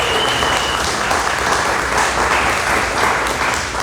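Dense, sustained audience applause fills a conference hall at the 2024 Iskali Conference, greeting a Family and Vocation panel; a broad, even wash of many hands clapping at once, loud and steady throughout.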